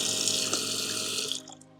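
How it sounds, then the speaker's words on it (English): A faucet on a Jeep overlanding setup's pressurized water system runs in a steady, strong hissing stream close by, then is shut off abruptly near the end. "we have the normal faucet here, which you can open, and you have nice flowing"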